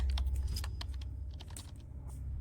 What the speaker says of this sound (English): both of them distinctly heard the sound of tapping on the keyboard